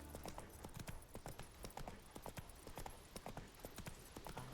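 Horse hooves clip-clop steadily at a brisk walking pace in the Witcher 3 video game, a continuous run of close, evenly spaced hoof strikes with no talk over them.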